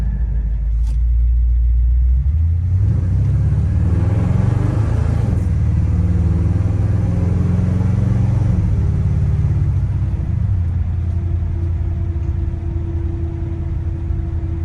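A 1963 Chevrolet Impala's engine during a test drive, a deep steady rumble from inside the car that swells as it accelerates and then settles to a smooth cruise, with no talking.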